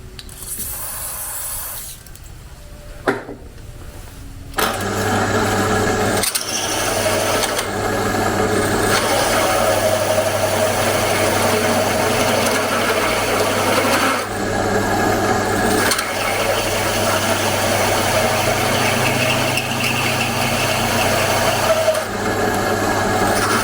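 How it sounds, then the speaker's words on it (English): After a few faint knocks, a drill grinds steadily into a metal trailer tongue for a long stretch, a loud continuous whirring rasp with brief pauses between. "all we have to do now is drill a hole in the tongue"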